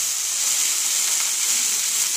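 Spring onion greens frying in oil, a dense, even hiss of sizzling heard close and on its own.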